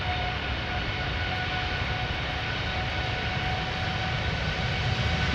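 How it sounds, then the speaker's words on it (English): A Belgian-registered TUI airliner taking off from Schiphol's Polderbaan fills the air with a sustained, loud jet engine roar that stays steady throughout. "First up, TUI flight 511 to Montego Bay, Belgian registered, 10 years old already"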